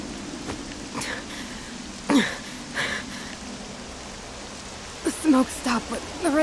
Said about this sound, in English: the rain doesn't look like it'll let up anytime soon